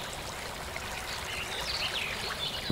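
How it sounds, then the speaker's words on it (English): Sliced onion fries in oil in a pan over medium heat for Hungarian mushroom paprikash, giving a steady, soft, hissing sizzle that continues evenly without voices. "Fry the onion over a medium temperature"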